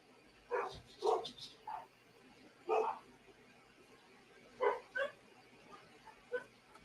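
Dogs barking: several sharp barks come in short bursts separated by pauses, some louder and nearer, others fainter, with no talking.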